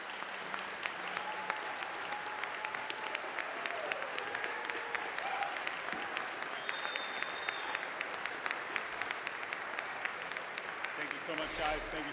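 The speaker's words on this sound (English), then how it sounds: "give a round of applause in his memory" An esports awards audience breaks into sustained, dense applause honouring a community member, steady clapping filling the hall for about twelve seconds before a brief louder swell at the end.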